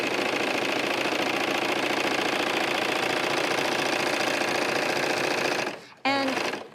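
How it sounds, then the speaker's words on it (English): A Bernina overlocker sewing on a cuff gives a loud, steady, fast mechanical whir close up for several seconds, then stops abruptly with a short restart, and a voice follows briefly. "what I want to do is very quickly sew, just like I did earlier, making that little pair of pants. I'm just going to sew this cuff on"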